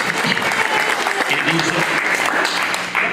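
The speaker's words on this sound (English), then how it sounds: "A round of applause." Audience applause at a Portuguese Immigrant Week gathering, a dense, steady wash of many hands clapping at full volume throughout, with some voices mixed in.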